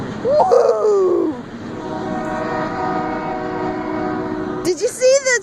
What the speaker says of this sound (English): That was big train